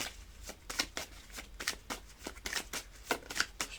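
Tarot cards shuffled by hand for a reading, a quick string of soft papery riffles and slaps that sound close and fairly quiet, with no one talking.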